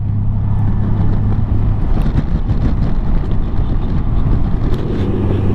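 Heavy wind buffeting from a ride on a Honda Goldwing GL1800 motorcycle with a Sidemarx windshield, a loud continuous low roar and rumble across the whole stretch, with no talking.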